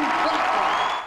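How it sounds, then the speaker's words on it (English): A packed Rupp Arena crowd at a Kentucky versus Missouri college basketball game roars and applauds in a dense, loud, sustained wash of cheering and clapping. "it was Bradford's turn to hear the roar of Rupp Arena firsthand."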